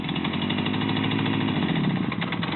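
A small Romet motorcycle engine idles steadily, then revs a little as it pulls away in first gear, with a buzzing, even drone throughout.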